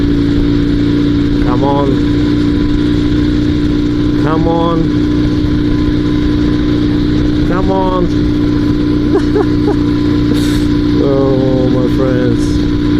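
A Dnepr two-wheel-drive sidecar motorcycle engine runs steadily off road, rough and struggling with a worn, failing engine; the continuous mid-pitched drone carries rising revving bursts, with someone talking over it throughout.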